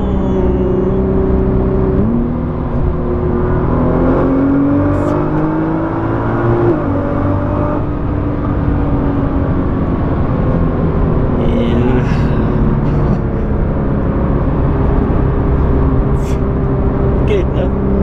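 A Nissan GT-R Nismo engine drones steadily while driving, a loud low rumble with gear shifts and rising revs heard from inside the cabin, with people talking over it throughout.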